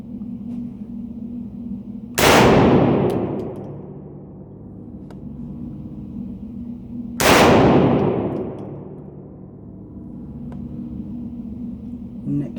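A BH Bestarms 12 gauge magazine-fed semi-auto shotgun fires two loud, sharp shots about five seconds apart, each ringing out in a long decaying echo over a low steady hum outdoors.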